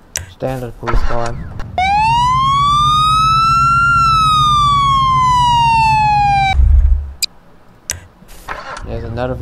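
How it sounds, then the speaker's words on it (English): A standard police car siren in the Garry's Mod video game: one loud, close wail that rises, holds and slowly falls for about five seconds before cutting off, with speech before and after it. "Standard police car"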